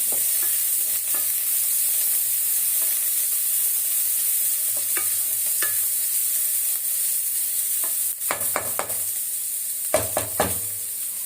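A small onion frying in a pan, with a steady close sizzle and the scrape of stirring, plus a few sharper clattering knocks near the end; no voices.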